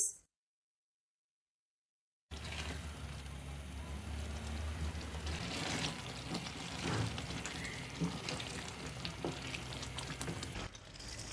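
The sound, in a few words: spinach and mutton being fried for palak gosht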